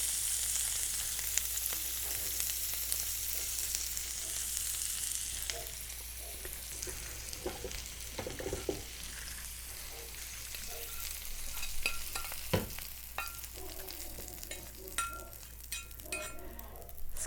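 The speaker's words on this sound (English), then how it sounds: "Oh, these are frying up nicely." Steady sizzling of fiddleheads frying in butter in a pan, with occasional clinks and scraping of a utensil stirring, fairly close and continuous.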